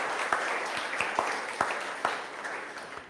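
Church congregation clapping in steady, dense applause at moderate distance, with a few sharper individual claps standing out and no clear speech over it.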